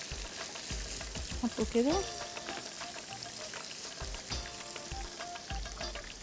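Onions sizzle and fry in a pan for Gulf-style maqluba, a steady crackling hiss with scraping stirring strokes, while a voice talks briefly over it.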